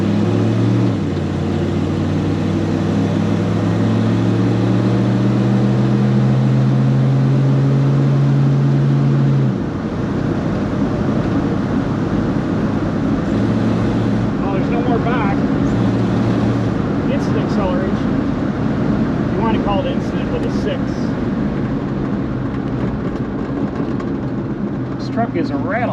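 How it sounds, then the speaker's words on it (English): An old Studebaker M5 truck engine, an AMC 258, idles with a low rumble and rattling vibration, which shifts after a while; speech is mixed in underneath. "This truck rattles a lot."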